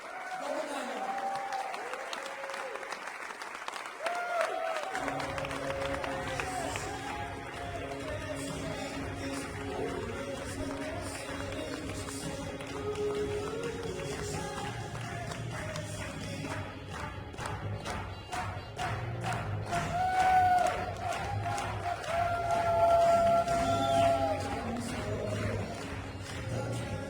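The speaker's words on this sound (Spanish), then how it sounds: "recibimos un poquito de aplauso" A large audience at a business seminar applauds continuously for a long stretch, the dense clapping building and staying loud with scattered cheers and voices mixed in.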